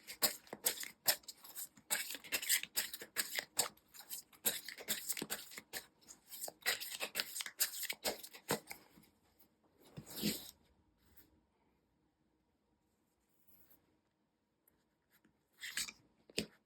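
Tarot cards being shuffled and drawn by hand, a busy run of soft rustling, sliding and tapping for several seconds, then mostly quiet with a few brief card flicks, up close and without speech.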